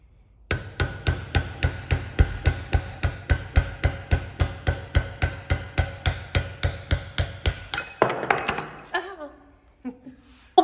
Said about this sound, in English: nothing a good old brass little punch can't do with a hammer